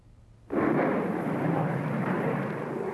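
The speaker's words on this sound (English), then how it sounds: "a quick release mechanism releases the compressed air into the cannon, drives the piston upward, and this drives the whole seat out of the cockpit." A compressed-air ejection seat cannon fires, driving a piston that blasts the seat out of a WWII Luftwaffe aircraft cockpit; a loud, sudden whooshing burst begins abruptly and sustains as a dense roaring rush to the end.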